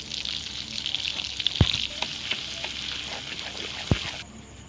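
Butter sizzling in a pot with whole black peppercorns, cardamom, cinnamon and cloves for fish biryani, a soft steady frying hiss with a couple of sharp clinks of a utensil, fading near the end.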